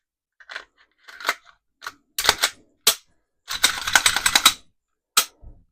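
Crisp metallic clicks and snaps from reassembling a Ruger RXM 9mm pistol's grip and pins, short close bursts separated by silence, with one longer clattering run of rattles in the middle.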